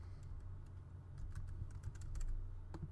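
Soft, quick keystrokes patter on a computer keyboard while a file is renamed on a PC or Mac, faint irregular clicks over a low steady hum, with no voices.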